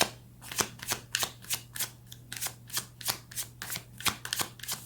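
Tarot cards being shuffled by hand, a quick regular series of crisp riffling bursts, about a dozen in a row, close and fairly quiet with no talk.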